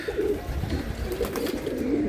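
Racing pigeons in a Dhaka loft coo steadily during bath time, a soft, continuous low burbling from several birds close by with no one talking.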